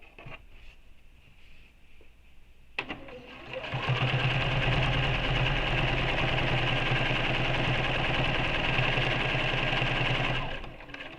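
A BERNINA sewing machine topstitching a strap runs steadily for about seven seconds after a short start, a fast even mechanical whir with rhythmic needle chatter, close by, following quieter handling sounds.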